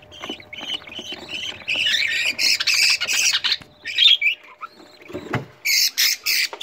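Four budgerigar chicks in a nest squawk in harsh, raspy bursts, close and loud, with short rustling gaps between the repeated calls.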